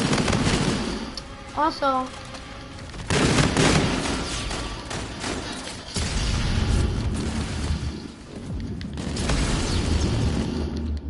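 Shotgun blasts in a PS4 shooter game, heavy booming shots and bursts of fire close up and loud, mixed with other game sounds and a voice talking in between.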